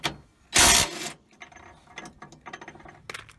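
A DeWalt impact wrench set to 125 foot-pounds gives a loud, short burst of rapid hammering, followed by quieter ratcheting clicks and mechanical rattles at close range.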